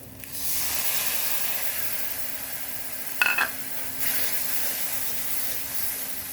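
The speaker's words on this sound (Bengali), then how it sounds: "মশলাগুলোকে কষাই নেব যতক্ষণ পর্যন্ত তেল বের না হয়" A spice paste with salt sizzles and hisses as it fries in oil in a pan for a Bengali boal fish curry with taro, under a steady sizzle and a brief scraping stir partway through.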